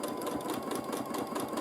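A sewing machine quilting a baby quilt runs in a steady, close, continuous whir with a fast mechanical needle chatter, loud and unbroken, with no voices.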